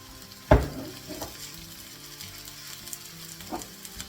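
Onions go into a hot pan for salt and chilli chicken wings, with one sharp clatter as they drop in, then a steady close sizzle of frying under faint stirring.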